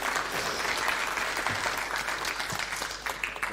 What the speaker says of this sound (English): Please, bring an applause for Hans.